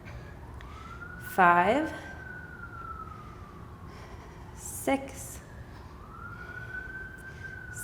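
A distant siren wails, rising and falling slowly beneath a voice counting aloud during a Pilates and yoga workout, with a few brief louder sounds breaking through.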